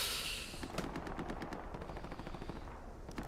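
Gunfire in a World War II-style multiplayer shooter video game, a rapid series of sharp shots over a dense rumbling battle background, moderately loud with no talking.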